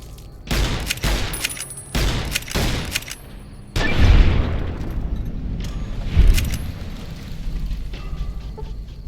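Gunfire in Fallout: New Vegas: several bursts of loud shots in the first seconds, then a heavier booming blast near the middle and another later, with a rumbling tail between them and no talk.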